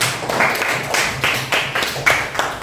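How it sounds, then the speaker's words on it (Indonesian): A small group of students claps in a classroom with rhythmic, evenly spaced hand claps, close and moderately loud for a few seconds. "tepuk tangan untuk kelompok 4."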